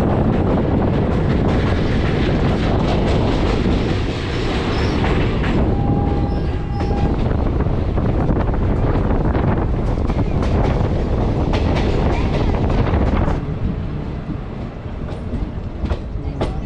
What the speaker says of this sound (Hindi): तो जी ट्रेन अपनी पहुंच चुकी है चंद्रपुरा जंक्शन